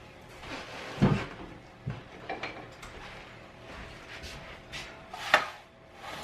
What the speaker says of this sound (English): I'm gonna grab a spatula